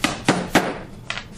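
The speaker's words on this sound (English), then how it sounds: "Just going to hammer them in there." Pieces of wood hammered into holes for sanding handles: five sharp, hard strikes spaced irregularly, close and loud with brief ringing decay and quiet between.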